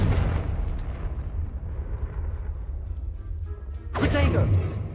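Confringo blasting spell explosions in Hogwarts Legacy, with a dull burst at the start, a rumbling stretch, and a sharper second blast near the end, while a voice is heard in the scene.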